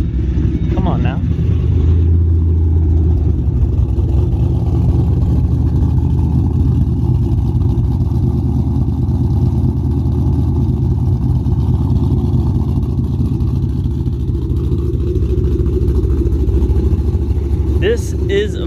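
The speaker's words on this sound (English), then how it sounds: "This is very loud, a lot louder than the stock exhaust manifolds for sure." A Ford Mustang GT fitted with long tube headers and an H-pipe exhaust rumbles loudly and steadily at idle, a deep, close, continuous engine drone.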